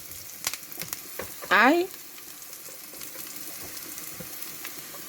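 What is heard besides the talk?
onions frying in hot oil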